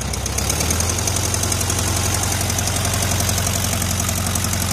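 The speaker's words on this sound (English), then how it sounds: "We got a running motor" The engine of a 1973 VW Karmann Ghia, revived after sitting 28 years, idles low with a steady loud rhythmic knocking chug close by, with no voices.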